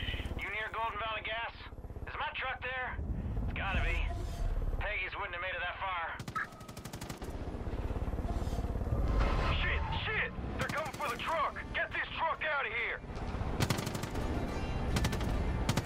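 Machine gun fire from the video game Far Cry 5 rattles in loud, sustained bursts that run most of the way through, layered with game effects, while players talk over it.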